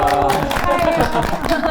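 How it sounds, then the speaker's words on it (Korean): An audience at a talk show on thirty years of German reunification claps together in steady, dense applause, with some murmuring mixed in, close and loud throughout. "독일에서 오신 프라크 형제님께 또 축하의 마음 받아서 우리 박수로 한번 축하해드리고 싶습니다"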